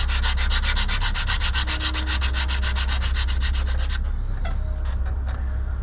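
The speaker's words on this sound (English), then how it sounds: "I'll give it a little bit of a sanding down." Rapid rhythmic rasping of sandpaper rubbed back and forth on the wooden deck of a 1:50 scale model ship, close and loud, stopping abruptly near the end with a few light knocks after.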